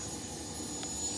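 A jet airplane engine roars in a continuous broadband rush, fairly loud and steady throughout the short stretch, with no voices over it.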